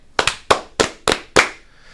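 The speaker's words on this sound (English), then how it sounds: "5 claps." A quick run of sharp hand claps, about five of them, comes in an even burst within a second and a half. They sound close and crisp, with a short ring after each one and no talking.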